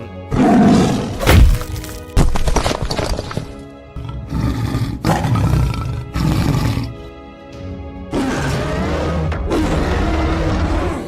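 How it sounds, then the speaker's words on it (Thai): Kong, the giant ape, lets out loud, growling roars mixed with heavy thumping chest beats, a dense and powerful creature bellow lasting several seconds. "คองที่ไม่ได้ตั้งใจจะหาเรื่องต่อสู้แต่แรกได้ทุบหน้าอกขู่พร้อมกับคำรามไล่เจ้าสปายพรอเลอร์ที่ล่าถอยกลับเข้าไปในป่า"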